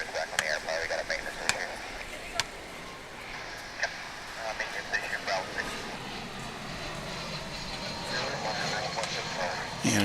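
An Airbus airliner banks after takeoff from DFW International Airport, bound for Doha; its engine roar rumbles steadily at a distance beneath bursts of nearby talk and honking birds.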